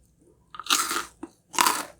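Two loud, close crunchy bites into a Red Ribbon Honey Crunch Cake, each followed by brief chewing, with a short quiet gap between them and no talking.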